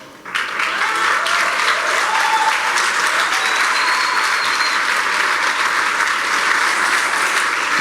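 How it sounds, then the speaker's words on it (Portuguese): A church congregation at an evangelical service claps to welcome people forward for baptism, dense sustained applause starting abruptly and continuing loud and even to the end. "aplausos."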